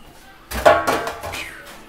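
A metal pan is set down in a kitchen with one sharp clatter near the middle, followed by a brief rattle and faint room noise.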